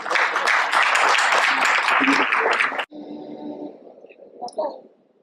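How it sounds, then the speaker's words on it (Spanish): Dense applause from a seated audience welcoming a doctor to a lecture on sex in older patients, a steady roar lasting about three seconds before it cuts off sharply, leaving a quiet hall with a few faint sounds. "un aplauso para el doctor"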